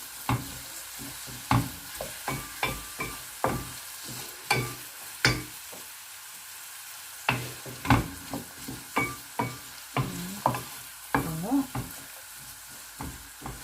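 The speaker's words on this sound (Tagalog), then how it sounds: "Tuloy-tuloy lang po natin igisa." Garlic sautéing in butter in a pan sizzles softly underneath a series of regular stirring strokes, each a short scrape or tap, close by and fairly quiet, with a brief pause midway.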